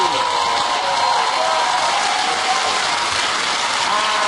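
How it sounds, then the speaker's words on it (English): Studio audience applause on a comedy panel show, a dense, steady roar of clapping that fills the whole stretch at full loudness with no talk over it. "Give it a round of applause for Russell and Andy."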